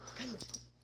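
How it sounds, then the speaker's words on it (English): Dogs barking in the background indoors, a brief, faint burst with a thin whine, heard at a distance with no one talking. "My brother came in and they started barking."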